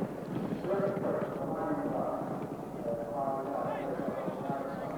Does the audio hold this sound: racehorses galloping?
yes